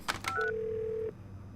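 Telephone keypad tones from a Nancy Drew adventure game: a couple of quick touch-tone beeps followed by a longer steady dial tone, clean and close with no voices.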